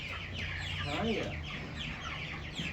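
Meat chickens cluck in a busy close chorus while being gathered into a tote for transport to pasture. Overlapping chirps and clucks run steadily throughout, with a louder squawk near the middle and some background handling noise.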